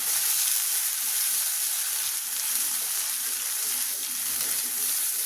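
Nut paste fries loudly in a pan, giving a dense, steady close-up sizzle that holds evenly the whole time with no talking.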